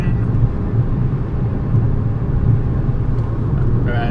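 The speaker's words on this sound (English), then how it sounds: "hearing the engine" A car engine hums and rumbles steadily while driving, a continuous loud low drone with slight rises as gears shift.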